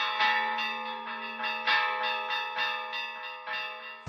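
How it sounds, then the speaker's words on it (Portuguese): A church bell rung in the traditional repique and dobre patterns, ringing out in loud repeated strokes with long sustained overtones that overlap and hum between hits, about eight strikes in steady rhythm with no talk. "Primeiro faz um repique com o sino, dá um dobre, dois dobre, três dobre."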